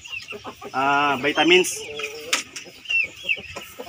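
A rooster crossbred from a native male with broiler hens clucks and calls in a short burst on a farm, with someone talking nearby.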